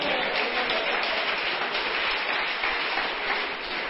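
A church congregation applauding during a Portuguese-language sermon, a continuous wash of clapping at steady loudness that sounds slightly muffled and distant.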